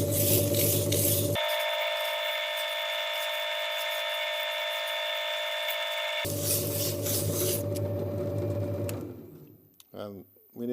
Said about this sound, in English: start up with some 80 grit and just hold it like this and grind it.